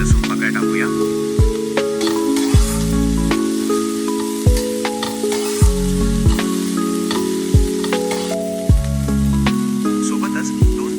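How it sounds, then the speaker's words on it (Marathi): Onion, tomato and garlic sauté in a pan for spicy matki misal, a continuous sizzle and stirring layered under rhythmic music with regular thumping beats. "कांदा भाजत आला की त्यात एक मध्यम बारीक कापलेला टोमॅटो टाका आणि कांद्यासोबत मस्त परतून घ्या।"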